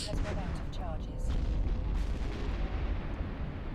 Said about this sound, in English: Alright, so you've got the explosions.